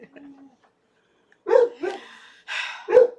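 A pet dog barks sharply several times from inside a house at someone out front on the sidewalk, loud and close, after a brief quiet lead-in with faint sound.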